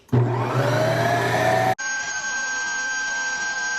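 A Ninja ice cream maker respins strawberry milk ice cream, its motor whirring loud and steady up close, then shifting abruptly to a higher, thinner, even whine for the rest.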